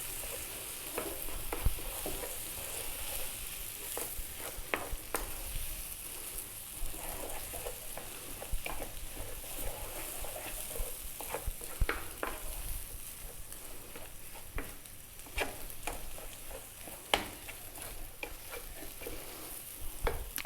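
An egg mixture is stirred and cooked in a pan for a sandwich filling, with soft continuous sizzling and a scatter of faint scraping strokes running steadily throughout, no voices.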